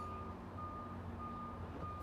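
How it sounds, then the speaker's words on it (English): A heavy vehicle's reverse alarm during an engine start and air brake check, steady repeated beeps over a low idling engine rumble, continuous and moderately clear. "I know it's in reverse because I can hear the reverse alarm."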